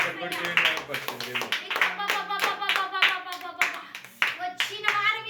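A church congregation claps in worship, a quick run of sharp rhythmic hand claps from many people close by, mixed with voices throughout.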